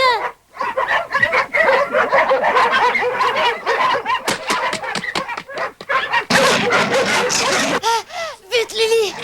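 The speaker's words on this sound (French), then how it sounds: "Attention, voilà les chiens." Cartoon dogs bark and yelp in a rapid, busy run, loud and close, mixed with snickering, chuckling voices and other character sounds.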